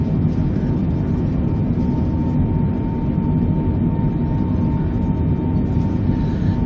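Boeing 747 engines roar during takeoff in a flight simulator game, a steady, loud, continuous rumble with a faint whine that holds without a break and has no speech over it.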